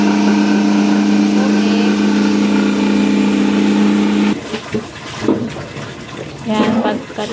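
A washing machine that has just washed bed sheets and a blanket drains its water. It starts as a steady, loud hum with a rushing flow, then switches to irregular gurgling and sloshing bursts, and a voice speaks briefly.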